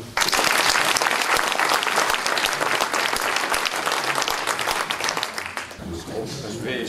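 Loud, dense applause from a crowd at a town mayor's New Year ceremony, honoring a recipient of a regional, departmental and municipal silver medal of honor, sustained for several seconds before tapering slightly with voices emerging at the end.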